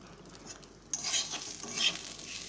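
Gobindobhog rice for basanti pulao is stirred while frying in a pan, soft rustling scrapes that grow busier after a quiet start, with a light sizzle underneath.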